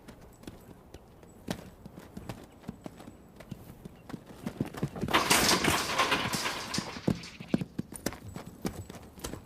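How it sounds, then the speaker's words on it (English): A two-year-old quarter horse stud gallops across open range on a Northern California ranch, with a steady rapid run of hoof clip-clops, loud and close, and a brief louder rush of movement midway. "This 2-year-old quarter horse stud, born on the open range, has never been handled."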